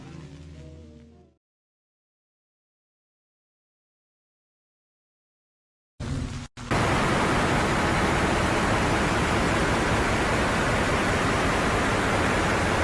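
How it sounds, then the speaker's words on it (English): Harsh, loud broadband static noise from a track, opening with a brief muffled tone before a long silence, then a burst, a short dropout and a steady wall of hiss to the end. "And we're back to the static again"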